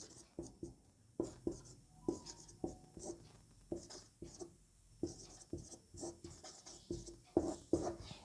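Chalk writes on a board during a physics lesson on gravitation, a series of close taps and short scratchy strokes in irregular bursts, with quiet pauses between them.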